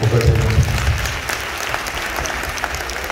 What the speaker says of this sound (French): Ils sont bien acclamés très fort pour le Seigneur